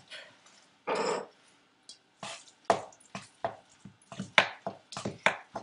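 Hands work ground-meat meatloaf mixture with ketchup, making close, wet squelching and slapping sounds: one longer squish early on, then a run of irregular sticky pats and squishes with short pauses between them.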